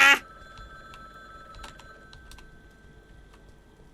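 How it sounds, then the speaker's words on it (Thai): A telephone ringing in the horror game Last Stop Station 66: one loud, bright ring burst at the very start, then a quiet hum with faint scattered clicks. "ไปรับโทรศัพท์ก่อน"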